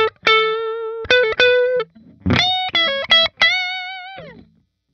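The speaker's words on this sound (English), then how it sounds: "The neck pickup, it just wants to play lead stuff." Electric guitar lead phrases on the neck pickup of a 2018 Gibson Les Paul Custom, warm, rounded tone, sustained notes with vibrato and quick picked runs, loud and close, ending in silence.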